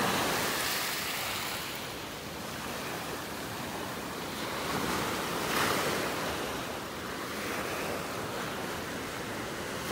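Ocean surf rolls steadily onto a beach in North Naples, Florida, a continuous broad wash of breaking waves with some wind, fairly loud and close, with no voices.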